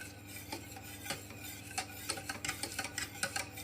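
Chocolate pieces being stirred into hot cream, a quiet close scraping of the spoon in a steady, slightly irregular rhythm.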